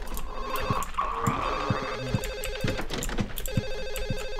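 Telephone in a Silent Hill 4 apartment ringing in repeated steady bursts, fairly close and clear, with a low ambient hum beneath.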